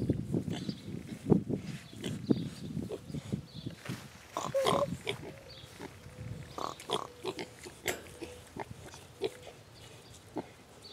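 Pigs snuffling, grunting and slurping as they drink goat milk close by, a busy run of soft oinks, snorts and wet lapping with shuffling hooves.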